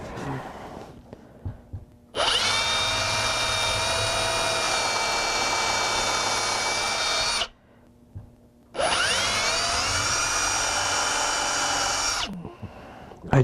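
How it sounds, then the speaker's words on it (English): A power drill whines steadily in two long bursts, about five seconds each, separated by a short pause, loud and close with a high-pitched motor tone, drilling holes in a bracket. "and drill a couple of holes."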